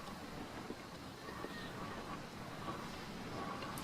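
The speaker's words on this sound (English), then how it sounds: "the bubble wrap I put on the outside" Bubble wrap fixed to the outside of a window screen flutters and bounces in a windstorm, a faint, steady rustling rush with soft irregular taps, muffled and distant.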